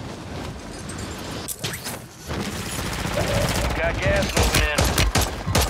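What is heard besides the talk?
gunfire in the video game Call of Duty Warzone 3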